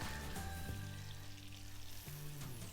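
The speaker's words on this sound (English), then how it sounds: "Allow the garlic to release all of its wonderful flavors into the butter" Garlic sizzling in melted butter in a pan for chicken Alfredo, a soft steady frying hiss with faint crackles, close and unbroken, with no voices.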